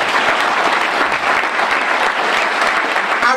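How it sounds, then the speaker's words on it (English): A crowd at an NAACP Martin Luther King Jr. breakfast claps their hands in loud, steady, dense applause that holds without a break, with no talk over it. "If you believe that that's a lie, clap your hands."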